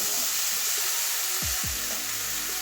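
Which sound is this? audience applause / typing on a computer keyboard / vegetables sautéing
vegetables sautéing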